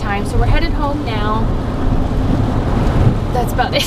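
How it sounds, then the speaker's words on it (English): Rain falls steadily during a drive home, a constant dense wash heard from inside a moving vehicle, with a low rumble beneath and a few brief tonal chirps over it. "It's raining, it's yucky."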